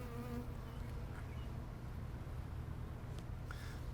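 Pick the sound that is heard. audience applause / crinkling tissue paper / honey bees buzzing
honey bees buzzing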